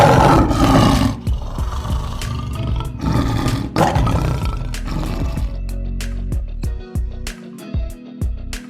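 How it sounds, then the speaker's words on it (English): A lion gives several deep, powerful roars close by, each rising and fading in turn, followed by a run of shorter, rhythmic grunting calls that trail away. "Lions are the kings of the animal kingdom."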